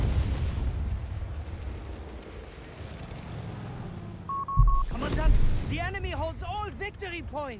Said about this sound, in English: More delayed fuse barrage here from enemy